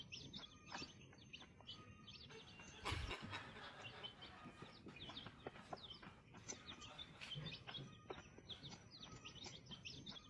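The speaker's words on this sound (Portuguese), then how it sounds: "Olha o galo." Rooster and chickens outdoors, with a mother hen and chicks nearby: scattered chirps, clucks and a brief louder crow-like call among faint background bird sounds.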